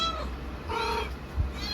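A cat yowling indoors at home, one drawn-out meow rising and falling alone, with a soft thump near the end.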